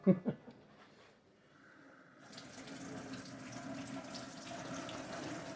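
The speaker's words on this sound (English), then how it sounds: "Excuse the noise in the background there, that's just the water running" After a couple of soft knocks and a short quiet pause, a kitchen tap turns on and water runs steadily into a sink.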